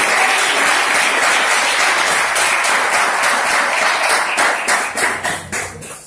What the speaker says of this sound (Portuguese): As palmas do reino de Deus.